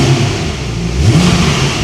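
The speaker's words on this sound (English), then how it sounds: "This is a reminder of what she sounded like before." Porsche GT3 race car exhaust on its original system, revving steadily at close range with a low, droning tone that rises slightly near the end, with no voices over it.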